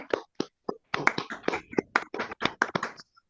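Applause rings out in an online meeting as a few participants clap with irregular, sharp, close-miked claps, thin and sparse rather than a full crowd.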